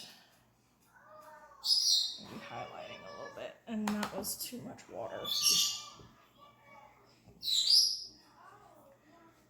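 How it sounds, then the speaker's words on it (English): Pet birds chirp and call in bright bursts around a painting session, several loud twittering spells standing out between stretches of someone talking close by. "if you can hear, Miss Robichaud's birds are very happy today"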